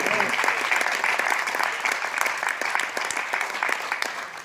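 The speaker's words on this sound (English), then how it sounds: "Give them a round of applause." An audience applauding steadily at the Mayor of New York's speech in Queens, dense clapping throughout with faint voices mixed in, moderately loud and sustained.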